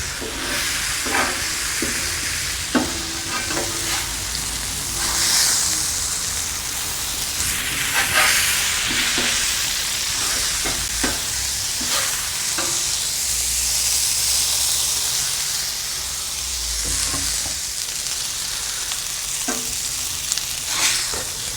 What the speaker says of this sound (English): We're gonna steam the buns from top of these burgers.